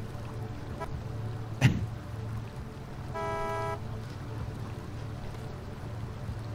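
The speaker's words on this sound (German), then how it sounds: "Wenn man schnell genug die Hupentaste triggert, sieht das aus, als würde er so wütend aufs Lenkrad hauen." A truck horn in the off-road driving game Snowrunner blares once as a steady, mid-loud tone of about half a second, preceded by a sharp knock and set over a continuous low engine rumble.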